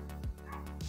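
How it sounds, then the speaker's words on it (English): A dog indoors gives one short bark-like yip with a brief whimpery edge, close and fairly loud, against a steady background hum. "Is there a dog outside?"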